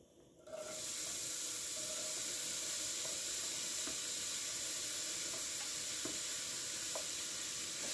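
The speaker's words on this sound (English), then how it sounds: "what I'm going to do now is I'm going to add my onion in here." Chopped onion dropped into warm olive oil in a pan, breaking into a steady, close hiss of sizzling after a quiet start, with a few faint clinks from stirring.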